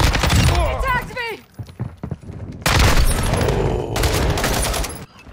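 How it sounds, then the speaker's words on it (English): Shotgun fire in a video game: several heavy, loud blasts in quick bursts with breaking crashes between them, while someone talks over the action. "That had to have been a shotgun, right?"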